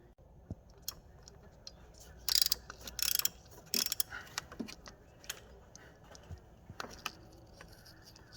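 Ratchet tightening a loose bolt near the alternator on a cheap GT V6 car engine, quiet irregular clicking bursts of pawl ticks with short pauses, close up.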